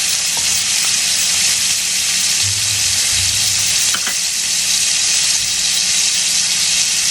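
A pork steak sears with butter added beside it in a hot pan, giving a steady, loud, close sizzle and frying hiss that runs continuously throughout with no talking.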